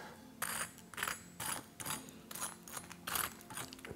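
Crispy panko-coated tofu katsu fingers crunch in close, repeated bites, giving bursts of crackly, brittle chewing roughly twice a second with no talking.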